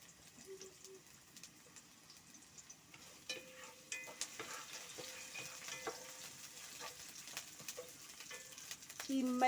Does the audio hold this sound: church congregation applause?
no